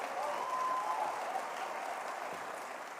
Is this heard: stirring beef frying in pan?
no